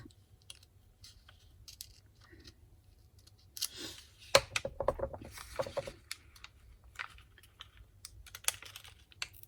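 Paper torn by hand for a scrapbook mini album, a few slow careful rips and crinkles in a quiet room, with a sharp tearing burst partway through followed by more rustling.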